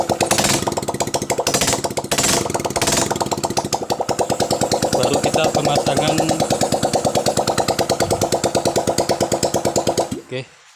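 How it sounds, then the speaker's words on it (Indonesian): A flood-damaged motorcycle engine runs with a loud, rapid, rattling putter close by, its beat steady before it dies away near the end, while someone speaks briefly over it. "motor ini hidup"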